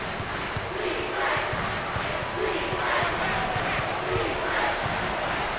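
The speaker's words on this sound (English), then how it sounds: "Listen to this crowd." Basketball arena crowd at a Miami at Kentucky college game cheering loudly and steadily, a dense roar of many fans standing and shouting throughout, with faint thuds of play beneath.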